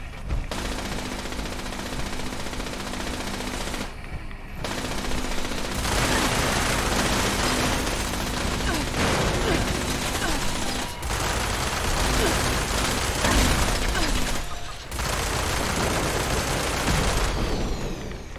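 Turret gunfire in the video game Fallout 76, with long dense bursts of rapid automatic shots and mechanical clatter, paused by short gaps and carrying on through most of the stretch.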